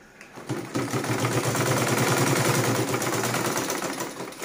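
A sewing machine stitches a turban band from one end to the other, a steady rapid motor whir with fast repetitive needle clatter running continuously and close after a brief start.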